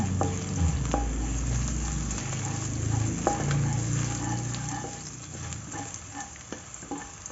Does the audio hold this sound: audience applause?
no